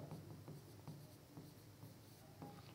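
Writing during a biology lecture on photosynthesis, likely chalk or marker on a board: faint, steady scratching strokes in short repeated bursts, with no talking.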